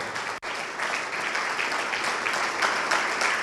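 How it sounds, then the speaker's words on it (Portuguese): A church congregation applauds continuously during a worship service, dense clapping filling the space at a steady, fairly loud level. "vamos aplaudir mais ao nome do Senhor"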